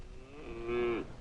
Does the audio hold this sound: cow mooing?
yes